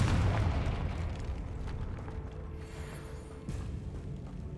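A Confringo fire spell blasting in Hogwarts Legacy, a heavy, rumbling explosion that starts strong and lingers as a broad, fading roar with faint creaks and debris.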